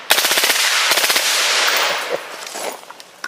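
A suppressed M16 rifle fires full auto, a loud close burst of rapid muffled shots lasting about two seconds, followed by quieter clatter and a voice.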